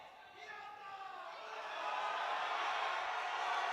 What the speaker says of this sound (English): The crowd urge him on